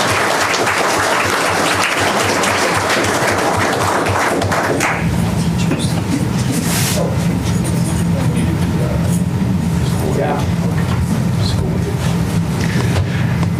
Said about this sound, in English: And one more round of applause for all the students.